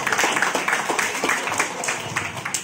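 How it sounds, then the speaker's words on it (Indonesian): Audience applause at a large corporate national meeting, a dense spread of many hands clapping steadily and fairly loud throughout, with no voices over it. "Tepuk tangan sekali lagi."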